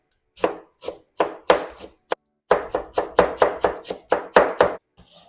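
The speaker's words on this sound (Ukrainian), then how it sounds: "нарізаю капусточку" A knife chops steadily through cabbage on a board, evenly spaced strikes, a short pause, then a quicker run of chops.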